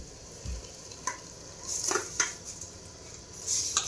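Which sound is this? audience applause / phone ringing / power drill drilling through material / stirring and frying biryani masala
stirring and frying biryani masala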